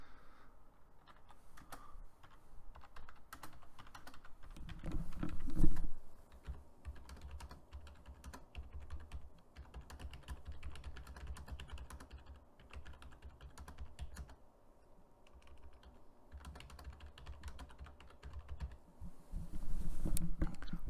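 Someone types on a computer keyboard while building a Smart Notebook presentation, producing quiet, steady, close clicking with a few louder bursts of keystrokes over about twenty seconds, with no voices.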